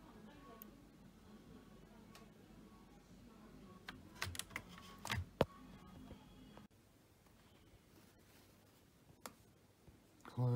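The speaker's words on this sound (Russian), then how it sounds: "Здесь аккуратно отщелкиваете, откручиваете болты." Plastic clips snapping and small screws being worked loose as a laptop's casing is opened to reach its battery, close-up clicks and ticks scattered irregularly over faint background noise, with a few sharper snaps midway.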